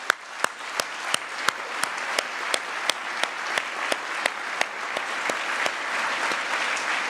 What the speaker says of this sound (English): Let's give a big applause for all the 6 teams.